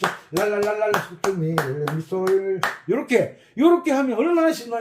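Hands clap sharply in a steady beat alongside accordion-style tones, bright and close, with the claps punctuating the melody in regular rhythm.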